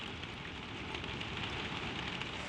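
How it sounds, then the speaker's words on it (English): Gentle rain falls on the low, dark roof of a lambing shed, a soft, even, continuous patter with no other sounds. "The rain comes down on the low, dark roof, soft and even, soft and even."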